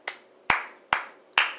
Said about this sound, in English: another round of applause for Australia